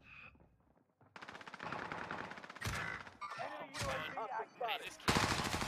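Bursts of video game gunfire crackle from enemies outside, with rapid machine-gun rattles and scattered shots in uneven clusters, loud against brief quiet gaps.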